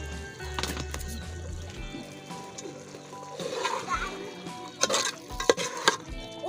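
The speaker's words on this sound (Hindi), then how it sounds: "इसको हम सिर्फ पतीले में चम्मच के साथ मिलाएंगे" A spoon stirs boiled potatoes and peas in a pot, giving scraping clinks and soft wet sloshing that grow busier toward the end, under a person talking.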